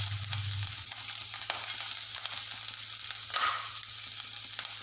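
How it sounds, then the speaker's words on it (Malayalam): Chopped ginger frying in hot coconut oil for egg bhurji, a steady close sizzle with light crackles and the odd stir or tap of a utensil, fairly quiet and with no talking. "ഇപ്പോൾ നമ്മുടെ വെളിച്ചെണ്ണ നന്നായിട്ട് ചൂടായിട്ടുണ്ട്. അപ്പോൾ ഇനി നമുക്ക് ഇതിലേക്ക് നമ്മൾ നേരത്തെ എടുത്തു വെച്ചിരിക്കുന്ന ഇഞ്ചി അരിഞ്ഞത് ഇട്ട് കൊടുക്കാം."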